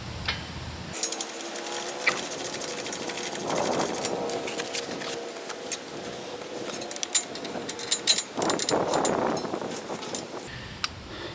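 A power tool tightens bolts during a Ford Explorer wheel bearing replacement, whirring in two sustained bursts with rattling hammering, framed by quieter workshop noise before and after.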